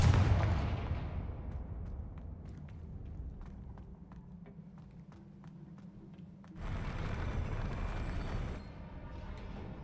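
A Confringo explosive spell goes off in Hogwarts Legacy with a booming blast that fades out, followed by scattered light clicks and then a second burst of broad rushing noise.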